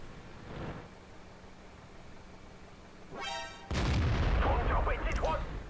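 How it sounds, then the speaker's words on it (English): A tank cannon shot fires in a tank game and slams into the rear of a Pershing tank, giving a loud low-heavy blast with a rumbling tail after a rising whine and some quieter earlier noise. "It's a nice shot into the rear of the Pershing."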